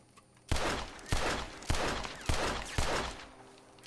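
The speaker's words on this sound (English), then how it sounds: "So every time I shoot, the trigger gonna bump a little bit." Five loud gunshots from a firearm in Red Dead Redemption 2, fired one after another at a steady, roughly half-second pace, each a sharp boom with a ringing tail, with no talk over them.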